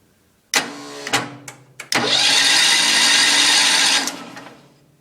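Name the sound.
Wheel Horse 310-8 engine cranking with stuck intake valve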